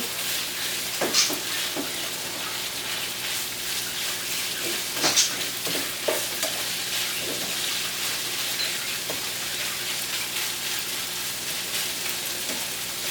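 Onions fry in a pan for longaniza and nopales in salsa, an even crackling sizzle throughout with occasional louder pops and clinks of utensils, no speech.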